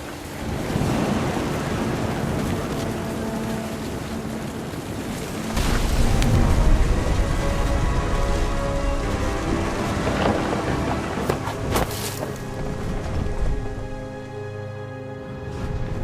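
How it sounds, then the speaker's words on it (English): Rain and wind wash over a stormy seaside scene in the video game What Remains of Edith Finch, with waves and a heavy thunder rumble building around the middle before easing. "The thunder sounded much too close and full of angry power"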